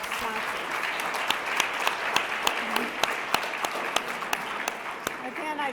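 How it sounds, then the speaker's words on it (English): Sustained applause from an audience at a church bicentennial program, a steady crackle of clapping throughout with a few sharper individual claps standing out. "So can we give a round of applause for our sponsors?"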